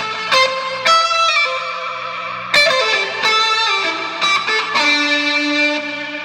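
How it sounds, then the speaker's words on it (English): Electric guitar played through a Digitech Obscura tape delay, fed from an echo rack built with a Magneto machine. Loud, distorted notes ring out and smear into dense, rhythmic repeats that wash together like reverb. "So then I put the tape delay into that."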